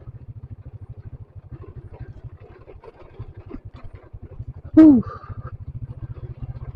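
A motorcycle rides a badly damaged, rough trail through a quiet forest toward a beach, its engine putting steadily and close throughout, with one brief louder burst of revving near the end.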